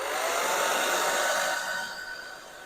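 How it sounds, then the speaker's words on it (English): A hair dryer blows loudly up close with a constant breathy whoosh, drying damp paint on paper, easing slightly quieter toward the end. "So I'm going to have to dry that with the hairdryer."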